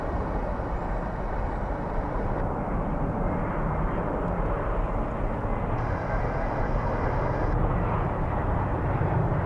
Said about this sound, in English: We'll follow along with a flight that's taking off now.